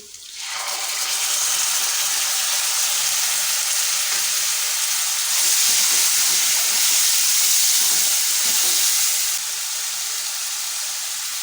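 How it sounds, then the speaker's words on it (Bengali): Beaten sour yogurt hitting a hot pan with soya chunks, giving a sudden loud, steady hiss and sizzle that holds for the whole stretch and swells briefly midway, with no talk. "এবার দিয়ে দেব ফেটিয়ে রাখা টক দই"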